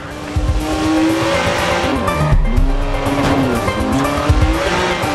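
Car driving in the video game Watch Dogs with loud engine roar and repeated tire squeals while the car skids and swerves, continuous throughout, no talk.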